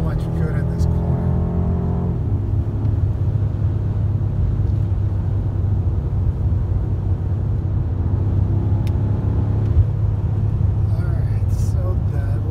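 A 2018 BMW M5 F90 sweeps through a corner, its engine a loud, continuous, close-up drone whose pitch dips, holds and then climbs again as the car exits the bend.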